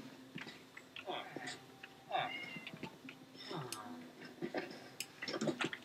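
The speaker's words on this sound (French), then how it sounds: "J'ai entendu un chat." Cat meows from the video game Minecraft, a few short mewing calls amid game sounds and clicks, fairly faint and scattered across the moment.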